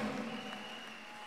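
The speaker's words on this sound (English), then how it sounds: "Give Jesus a clap offering" A church congregation claps together as an offering during a live-streamed service, a soft, diffuse wash of applause heard at a distance with a faint steady tone underneath.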